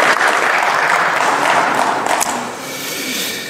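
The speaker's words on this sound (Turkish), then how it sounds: "İyi alkışlasınlar Sayın Bülbül'ü." Loud, sustained applause fills a parliamentary chamber, dense clapping from many members that holds steady before easing slightly toward the end, with no talk over it.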